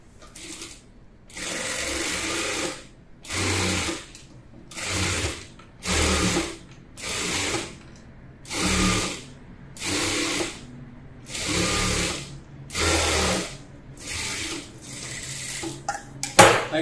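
A sewing machine stitches a lightly rolled sleeve hem on a frock for a two-year-old child, running in about ten steady bursts of rapid whirring and clatter separated by short pauses.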